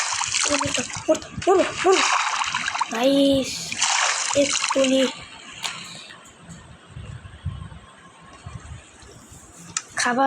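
In Minecraft, water is collected with splashing and sloshing effects that come up loud and close, while a young voice speaks over the top and a fainter watery wash fills the rest.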